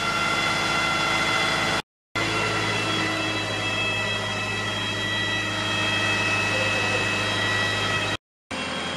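A bus engine revs with a loud, steady drone and whining tone at a bus depot, running continuously with two brief cutouts; no talking.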